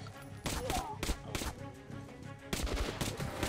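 Gunfire in the Metro Last Light video game erupts in loud, rapid bursts of shots, with a first volley early on, scattered shots in between and another dense burst near the end.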